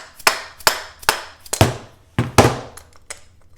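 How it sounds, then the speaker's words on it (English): A dead blow hammer whacks an old air sander apart in about six separate sharp knocks, each a dull thud with a short ring, spaced irregularly and close up, with no talking. "just give it a couple of gentle whacks to persuade it to come apart"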